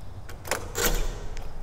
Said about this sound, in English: Just closing a door here so the air conditioning isn't coming out into the garden.